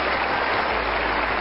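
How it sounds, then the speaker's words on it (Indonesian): A television studio audience fills the room with continuous, dense applause, steady and loud throughout with no talking over it. "Boleh tepuk tangan untuk periode kedua"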